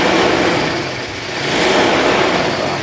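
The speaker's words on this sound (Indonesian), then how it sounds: "itu untuk gas-gasannya juga suaranya masih enak" A 2002 Toyota Kijang Krista with a 2.0-litre injected petrol engine and automatic gearbox, about 150,000 km, revved loudly and close up, the engine note rising, dipping briefly, then swelling again in a smooth roar.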